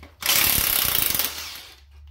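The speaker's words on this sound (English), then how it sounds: "Now we'll take the manifold off." An impact wrench or air ratchet rattles in a rapid, loud burst for about a second while loosening exhaust manifold bolts on a vehicle, then winds down and stops.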